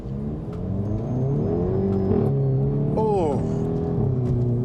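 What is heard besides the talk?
car exhaust revving and downshifting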